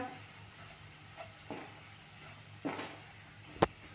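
Soft scraping and stirring of a dry spice mixture with crushed kasuri methi for kachori filling, faint and intermittent, with a couple of brief louder scrapes near the end.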